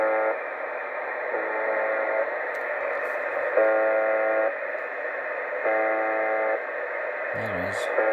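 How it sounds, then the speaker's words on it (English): A steady electronic buzzing tone from a Russian shortwave buzzer station, heard in Scotland, drones continuously with periodic shifts in pitch, under a hiss of radio static, with a brief warbling blip near the end. "Buzzer."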